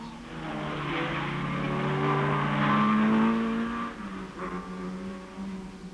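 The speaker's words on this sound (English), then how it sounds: "At the chicane, the leaders in the class, Alpine, Spitfire and Lotus, while this DKW enlivens the proceedings by sprinkling fuel on the corners" Class-leading 1964 Alpine, Spitfire and Lotus race cars on the Tour Auto rally in France, a single engine swelling as it approaches, holding a loud revving note, then fading as it accelerates away through the chicane.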